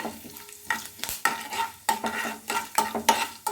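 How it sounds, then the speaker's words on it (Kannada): Curry leaves and spices frying in a pan for tomato gojju, a steady sizzle broken by repeated stirring scrapes and clinks in an uneven rhythm, close and clear with no voices. "ಎಲ್ಲದನ್ನು ಚೆನ್ನಾಗಿ ಫ್ರೈ ಮಾಡ್ಕೊಳ್ಳೋಣ"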